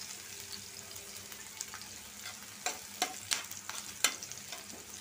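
Onions frying in a pan for a potato and okra dish, a faint low sizzle with a few sharp scraping stirs and clinks clustered near the end, heard quietly without talk.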